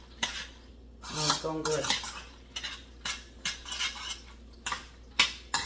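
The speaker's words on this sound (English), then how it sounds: "I'm going to give it a stir around until all that cheese gets melted" Spoon scraping and clinking around a pot as butter, milk and cheese melt together for no-bake mac and cheese, in repeated stirring strokes with a few louder knocks; a short remark is spoken partway through.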